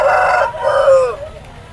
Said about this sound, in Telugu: ఇది కూడా పందెం కోడ్ అంట